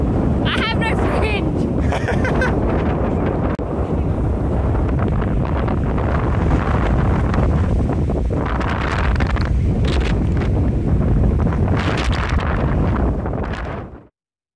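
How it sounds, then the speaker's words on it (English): Steady wind buffeting the microphone outdoors at Shark Bay for most of the clip, a loud broadband rumble that cuts off abruptly near the end, with a voice briefly audible early on. "It's just a little bit windy out here"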